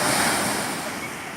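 Sea waves washing onto a beach shore, a close, steady hiss of surf with wind noise on the microphone, no voices.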